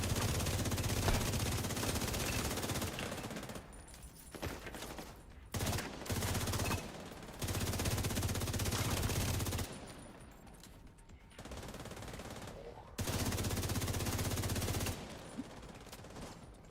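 Sustained automatic gunfire from a video game shooter, arriving in long rattling bursts separated by short pauses, fairly quiet overall with little talking.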